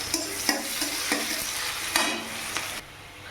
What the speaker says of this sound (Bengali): পেঁয়াজটা একটু ভাজা ভাজা হয়ে দিই।